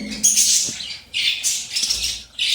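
Pet birds in a home bird room squawk and chirp at feeding time in the morning, sending out a few sharp, loud bursts close by with short quiet gaps between them.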